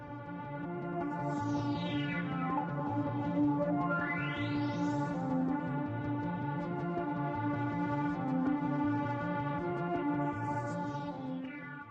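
Krautrock-style German cosmic music excerpt with a steady pulsing synthesizer drone and repeated tonal sweeps rising and falling, continuous and fairly quiet, no voices.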